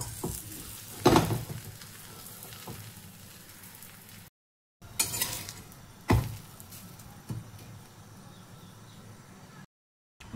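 Cauliflower and carrot paratha cooking with ghee on a hot tava: soft sizzling bursts flare up now and then as the bread is pressed and turned, with quiet scraping between, close by and with no voices.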